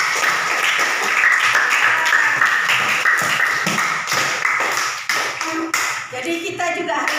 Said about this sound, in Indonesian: kita kasih tepuk tangan dulu untuk kita semua ya